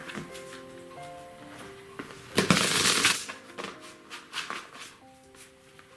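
Cards riffled and shuffled with a burst of rapid flapping in the middle, soft musical tones playing underneath.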